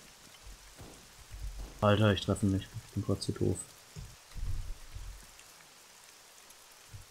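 Rain keeps falling in the Arma 3 Breaking Point game, a soft steady wash of drops running beneath someone talking in German, with short bursts of sound between his words.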